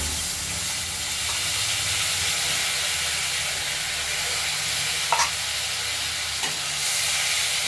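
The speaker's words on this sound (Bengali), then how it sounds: "কালো জিরে সাদা জিরে আর আলুগুলো ভাজতে দিয়ে দিলাম" Oil hisses and sizzles steadily as potatoes fry with black cumin and cumin seeds, with a couple of brief scraping stirs partway through.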